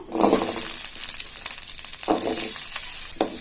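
Small shallots sautéing in hot oil for a village-style mutton curry, a steady close hiss with a few soft spoon scrapes and stirring bursts, no talking.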